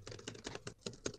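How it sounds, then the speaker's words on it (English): Rapid keystrokes clatter on a computer keyboard, a quick irregular burst of close clicks with no voices. "That's what a keyboard sounds like."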